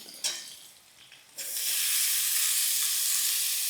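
Grated papaya tipped into a pan of frying potatoes sets off a sudden loud sizzle that keeps hissing steadily, after a quieter stir and clink just before.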